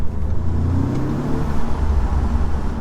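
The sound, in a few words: car 2-litre engine revving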